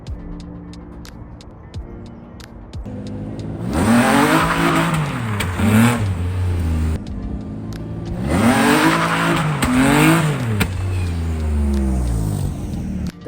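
A Nissan 350Z with a welded differential drifts, the engine revving hard and rising and falling through two long passes, loud and close, with faint clicks and no talking.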